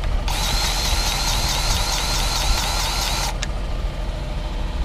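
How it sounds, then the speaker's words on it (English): A hand grease gun on farm plough machinery gives a close, rhythmic mechanical squeaking and clicking for about three seconds over a steady background hum, then stops. "Got to keep pumping grease in every single grease nipple."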